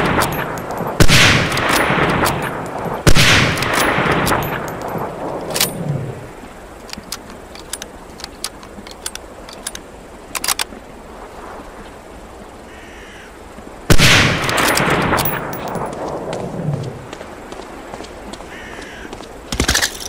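Rifle shots from a Springfield 03 sniper rifle in the 2002 game Medal of Honor: Allied Assault, two quick loud cracks early, then a gap of scattered small clicks before another sharp shot with ringing echo.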